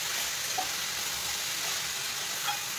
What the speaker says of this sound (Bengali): এবার গ্যাসটা কমিয়ে চাপা দিয়ে ভেজে নেব।